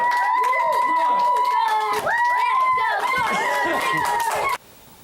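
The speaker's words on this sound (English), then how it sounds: "Come on, cheer!" Young children at a second-grade reading celebration cheer and shout together, loud overlapping voices with rising and falling whoops that cut off abruptly near the end, leaving faint room noise.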